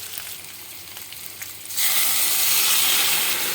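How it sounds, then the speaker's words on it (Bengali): Boiled moong dal hits a pan of spiced papaya, and a quiet sizzle jumps into a loud, steady frying hiss that holds to the end, with no voices. "এবার আমি সেদ্ধ ডালটা এর মধ্যে দিয়ে দেবো।"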